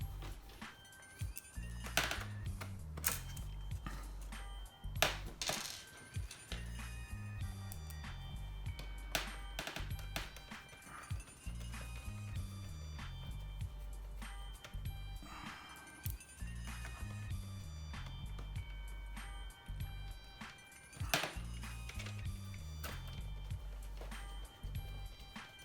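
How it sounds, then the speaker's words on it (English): Screws are driven back in to secure an Xbox One X power supply, with faint metallic clinks, ticks and taps at irregular intervals over a low background hum. "reinstall the screws that hold it in place"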